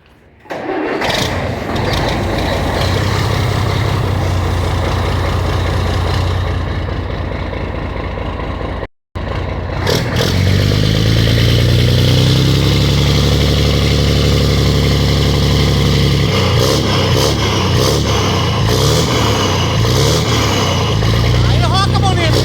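Scania 113H truck engine fitted with a straight-pipe exhaust runs loud and close, a deep throbbing rumble with revving swells, a brief cutout near the middle, then resuming; voices talk over it.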